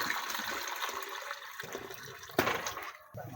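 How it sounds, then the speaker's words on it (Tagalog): Coconut water pours into a container for a nipa palm fruit dessert, a continuous splashing liquid stream with a brief sharper splash near the end, close and without speech. "Matapos nga natin hugasan ay maglalagay na tayo ng sabaw ng buko."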